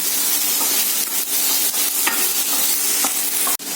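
Oil sizzles steadily in a pan while netibirakaya (ridge gourd) chutney ingredients are stirred, with a continuous loud frying hiss broken by repeated scraping strokes of a spoon and no talking.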